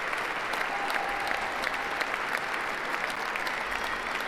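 Audience applause during a political speech, a dense, steady wash of clapping from a large crowd lasting the whole stretch, fairly loud and even with no voices over it.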